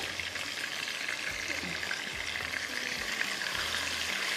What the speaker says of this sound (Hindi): ये देख लीजिएगा यहाँ पर चिकन हमारा जो है वो फ्राई हो गया